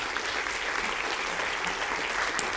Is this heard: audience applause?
yes